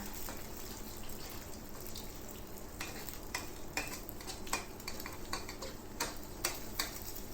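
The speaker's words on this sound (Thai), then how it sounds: "แล้วก็คนให้ไข่ขาวไข่แดงขากัน คนๆ เลยค่ะ" Eggs frying in a pan sizzle under a constant hiss while a spatula stirs them, giving repeated light scrapes and taps at an uneven rhythm, close up and without speech.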